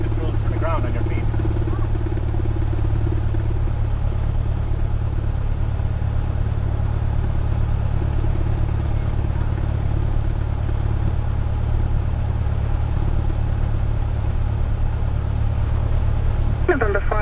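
A Cessna 172 light airplane taxis on the ground, its piston engine giving a steady, continuous low drone heard from inside the cockpit, with radio and cockpit voices talking over it.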